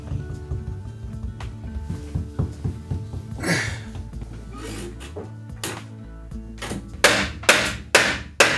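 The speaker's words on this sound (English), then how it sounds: "I start by tacking it in from the okabe side with finished nails" Finish nails are hammered into wooden trim in a Japanese household altar room, heard as a series of close, sharp taps and knocks with some irregular shuffling and a few louder strikes toward the end.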